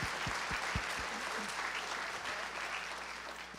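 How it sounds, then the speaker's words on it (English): An audience at a university development day applauds steadily, a dense, even clapping that fills the room from a slight distance, with no talk over it. "let's give one big round of applause to everybody who's helped out today"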